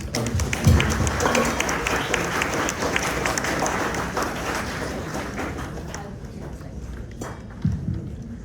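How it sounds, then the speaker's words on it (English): A lecture audience gives a speaker a round of applause, dense, crackling claps that carry on steadily and then thin out and fade to scattered claps near the end. "Can we have a round of applause?"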